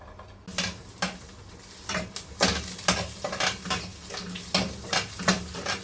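Chopped onions, three medium ones, sizzle in oil in a pan as a spoon stirs and scrapes in a steady rhythm of repeated strokes over a continuous frying hiss, close and fairly quiet.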